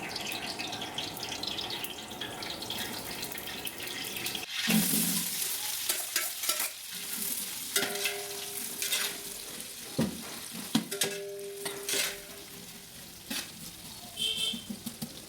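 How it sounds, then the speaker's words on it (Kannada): Onions and spices, including bay leaf, fry in oil in a large pot for vegetable pulao, a steady sizzle broken by stirring scrapes and clanks that come in irregular bursts, close and without talk. "ಆನಿಯನ್ಸ್ ಚೆನ್ನಾಗಿ ಫ್ರೈ ಆಗಬೇಕು."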